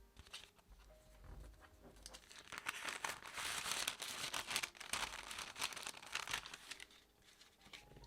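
Sticker order being packed by hand: steady crinkling and rustling of plastic sleeves and paper packaging, close and fairly quiet, busier in the middle, with no talking.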